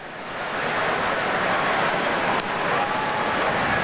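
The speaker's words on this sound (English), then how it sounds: "And another long ovation for Barry from this capacity crowd in San Francisco." A capacity stadium crowd in San Francisco roars in a long, sustained ovation for Barry Bonds, swelling from a quieter start into a dense wall of cheering and clapping heard from within the stands.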